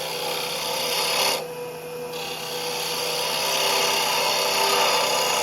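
A wood lathe spins a lidded box with a finial while a turning tool makes a shear cut, giving a steady rasping, scraping hiss with a short quieter gap partway through, close and continuous.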